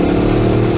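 A Bugatti Veyron engine pulls hard under acceleration, a loud, steady low growl filling the short moment without any voices.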